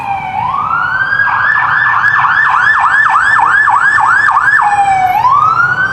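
A loud emergency vehicle siren passes on a Toronto street, rising in a wail, then yelping rapidly up and down before settling back into a wail, close by over steady traffic rumble.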